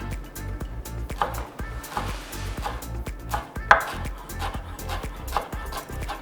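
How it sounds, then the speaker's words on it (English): Knife rough-chopping fresh cilantro for guacamole on a cutting board, a quick, steady run of close, crisp chops with slightly uneven rhythm throughout. "And then I just take some fresh cilantro, give it a nice rough chop."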